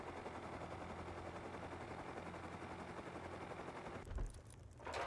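Sustained automatic gunfire from the survival game Rust, a steady dense rattle of rapid shots running for about four seconds before breaking off into a brief pause and a muffled thump.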